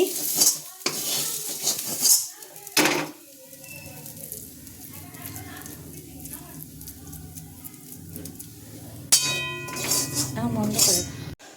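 Mashed taro paste being scraped off a pan, with metal utensils clanking and scraping against the cookware in bursts, a softer stretch of faint sizzle between, and a voice talking over parts of it.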